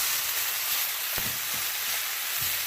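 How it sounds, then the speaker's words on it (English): Potatoes and cilantro frying in a pan give a steady, close sizzle, with a few spoon-scraping stirs knocking through it at irregular intervals. "So after you add the cilantro, just keep stirring and mixing it"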